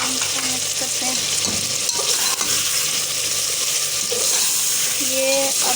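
Chicken frying with turmeric and salt in a pan for degi-style chicken korma, a steady sizzle running throughout with stirring scrapes, while faint talk sits underneath.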